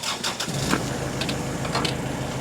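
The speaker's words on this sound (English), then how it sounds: "So we're going to fire this tractor up." A 2015 Kubota L4060 42 HP diesel hydrostatic tractor loader cranking over, then catching and settling into a steady low idle with a brief rev, heard up close and alone.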